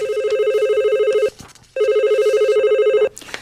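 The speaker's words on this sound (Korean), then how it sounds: "그리고 저녁 때 또 전화가 울렸습니다." A household telephone rings in the evening, two long electronic trilling rings separated by a short pause, loud and close with no talk over them.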